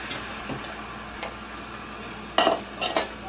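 Two cans each of pinto and kidney beans tipped into a kitchen strainer for rinsing, giving a few soft ticks followed by two short bursts of metallic clinking and clattering close by.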